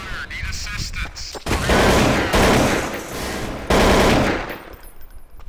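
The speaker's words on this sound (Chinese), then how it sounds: "刘烨 AK 怎么那么难用？" Rapid automatic rifle fire from the video game Counter-Strike: Source, with an AK among the weapons, plays as dense, loud bursts of overlapping shots that rise and fall across the few seconds.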